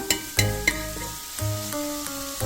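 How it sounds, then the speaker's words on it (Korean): Radish namul (seasoned Korean radish) stir-frying in a pot over low heat, a soft continuous sizzle with a few louder clinks and scrapes of stirring, close and alone without talk. "지금 무나물이 맛있게 볶아져 가고 있죠."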